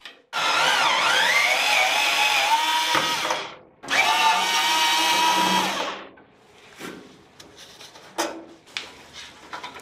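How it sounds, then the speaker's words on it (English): A power drill backs out screws holding the blower housing to the cabinet of an old gas furnace: two long whirring bursts with rising and falling pitch, followed by lighter clatter and handling noise. "removed the screws that secured the housing to the cabinet"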